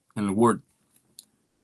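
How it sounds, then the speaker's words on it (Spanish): Computer mouse right-clicked while results are copied, heard as a couple of small, sharp clicks after a short burst of speech, then near silence. "seleccionamos la media, le damos clic derecho, copiar"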